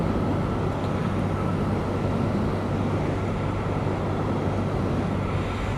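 BMW R 12 S motorcycle engine heard while riding at about 2500 rpm and 80 km/h, a steady low rumble mixed with constant wind roar, loud and unbroken throughout.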